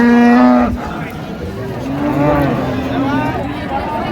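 Dairy cows and calves low loudly at close range at the Raniganj cattle haat in Dinajpur, with one long moo followed by several more drawn-out calls over a constant murmur of the market crowd.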